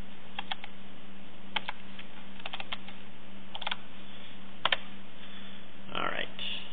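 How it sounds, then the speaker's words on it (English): Scattered clicks of typing on a computer keyboard, short bursts of keystrokes over a low steady hum, with a faint rustle near the end. "I'm typing in the colors from that"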